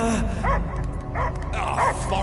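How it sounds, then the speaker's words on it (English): A dog barking in the Guardians of the Galaxy video game, several sharp barks and yips in quick succession over a game soundscape, close and fairly loud. "I hear only barking."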